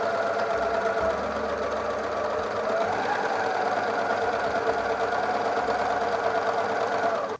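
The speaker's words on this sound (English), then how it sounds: "And stitch along the side seams." A sewing machine stitching the side seams of a halter top runs in one steady, close, unbroken whir for several seconds, then stops abruptly.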